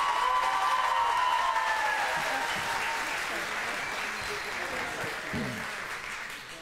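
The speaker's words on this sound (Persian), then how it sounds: "گروه یک ما رو تشویق کرد" Sustained audience applause fills a game show studio, a dense steady clatter of many hands that stays loud throughout and fades slightly toward the end, with a few faint cheers mixed in.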